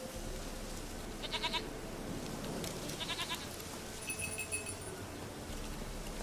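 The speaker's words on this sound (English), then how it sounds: "I like this little goat." A small goat bleats in The Witcher 3 game, a few short quavering bleats spread across the clip over a steady ambient game background, with faint clinking near the end.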